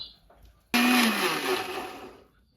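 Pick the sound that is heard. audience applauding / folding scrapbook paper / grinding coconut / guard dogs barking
grinding coconut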